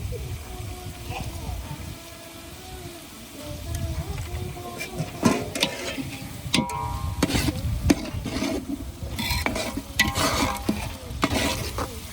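Ginger and onion paste frying in a pot for a big fish curry, with steady sizzling and repeated scraping stirs of a utensil; some faint talk sits underneath.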